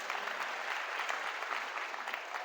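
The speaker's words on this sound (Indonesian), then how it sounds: "Boleh tepuk tangan buat kakak kita hari ini." An audience claps steadily at a leadership seminar for prospective Darul Uluum Lido administrators, a dense, even wash of many hands sustained for a few seconds with no voices.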